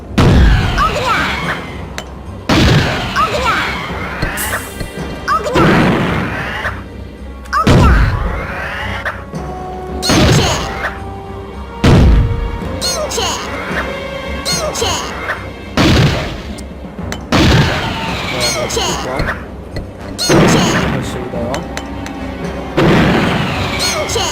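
Heavy booming blasts in the video game Worms Armageddon go off repeatedly, roughly every couple of seconds, loud and close, with shouting voices between the explosions.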